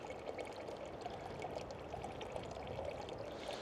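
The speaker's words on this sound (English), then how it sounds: "and watch a water fill up for coffee." Water pours steadily to fill up for coffee at a campsite in Angeles National Forest, a close, continuous splashing stream with a gurgling bubbly texture, no voices.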